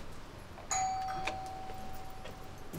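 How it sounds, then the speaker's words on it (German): A single doorbell chime rings out, a clear bright tone that lingers and slowly fades, followed by a second fainter ding, against a quiet background. "Jetzt kannst du klingeln"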